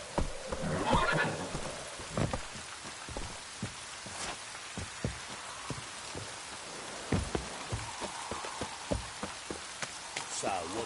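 Roach the horse from The Witcher 3 neighs near the start, then hooves clip-clop in an uneven gallop under a steady rain-like hiss, with faint voices in the background.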